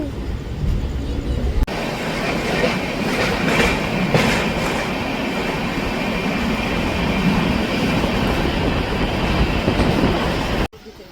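Loud, continuous rumble and rattle of a train running on tracks, heard from inside a carriage, with steady clatter throughout.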